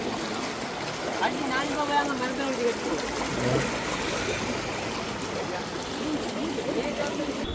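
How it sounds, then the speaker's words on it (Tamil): Floodwater rushes steadily under a broken bridge with a broad, churning roar, while a person talks over it early on. "இது கீழால் வந்து தண்ணி பாய்ஞ்சி ஒன்று நிற்குது"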